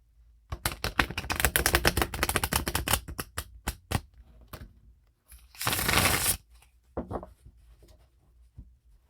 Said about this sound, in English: I didn't leave myself very much room to shuffle.